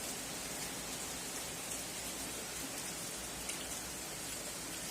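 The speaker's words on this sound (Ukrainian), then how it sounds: "І сюди аж, бачите, сюди мені аж дощ пішов." Steady summer rain falls on a garden plot of freshly hilled potatoes, a dense, even hiss of drops that carries on alone for the whole stretch without any voices.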